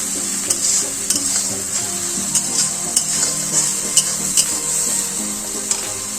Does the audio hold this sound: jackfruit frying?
yes